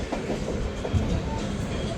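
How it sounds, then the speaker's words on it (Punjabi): The Amritsar Jan Shatabdi, train 12053, rolls into Sanpur railway station with a close, steady rumble and faint clatter of wheels on track, a low continuous rolling sound throughout. "ਇੱਥੇ ਜਨ ਸ਼ਤਾਬਦੀ ਪਹੁੰਚ ਰਹੀ ਆ ਸਾਨਪੁਰ ਰੇਲਵੇ ਸਟੇਸ਼ਨ ਤੇ"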